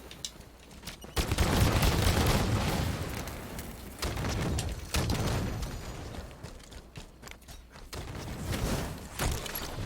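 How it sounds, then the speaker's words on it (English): Chaotic bursts of gunfire and grenade explosions from a Halo 5 custom game, loud booming blasts and rattling fire coming in waves with short lulls between them. "You're spamming grenades."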